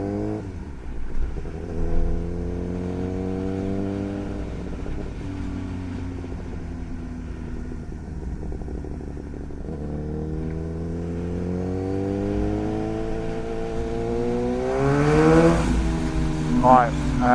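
Suzuki GSX-S1000 motorcycle with a Yoshimura R11 straight-pipe exhaust, ridden on the road: a steady engine drone holds through gear changes and climbs into a louder rising rev near the end.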